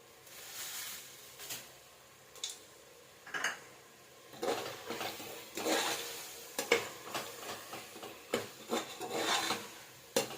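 Cashews fried and stirred in a pan while cooking egg biryani, giving intermittent scraping and clinking of a spoon against metal over a soft sizzle, with the stirring growing busier and louder partway through.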